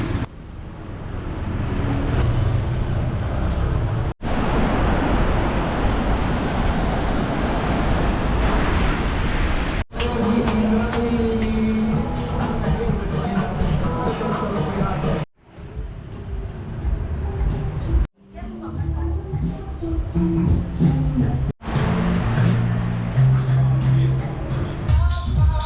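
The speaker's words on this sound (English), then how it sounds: "But it's incredibly busy. There is non-stop traffic." Non-stop street traffic in busy Seminyak, Bali, makes a loud, dense, constant roar of engines and road noise that cuts off abruptly several times.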